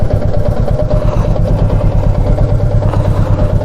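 A motorcycle idles close by outside a riding-gear shop, a steady loud mid-pitched engine putter with a fast even pulse and no change in revs.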